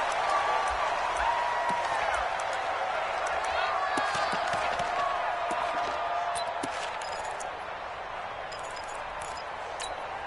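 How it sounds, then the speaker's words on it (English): Stadium crowd in an NFL football video game, Seattle Seahawks against Detroit Lions, a steady roar of cheering and clapping filling the background throughout. "This crowd is ready as their guys get set to match up"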